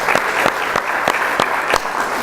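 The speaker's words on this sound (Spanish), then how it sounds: "Entonces quisiera terminar con un aplauso bien fuerte para estos investigadores que han hecho esta labor tan importante." Strong applause for researchers at the close of a panel discussion on mental health, dense clapping from the audience, loud and steady with a few sharp accents.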